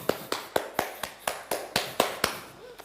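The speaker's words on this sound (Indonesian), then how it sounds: "Tepuk." A hand pats a patient's back during a traditional back massage, about ten sharp, evenly spaced slaps, close and crisp.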